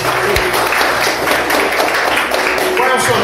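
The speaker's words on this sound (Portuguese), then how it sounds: "Vamos aplaudir o nome dele." A church congregation breaks into steady, dense applause for a man during a worship service, the clapping continuous and fairly loud with voices mixed in.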